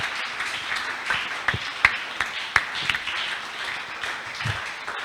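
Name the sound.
congregation applauding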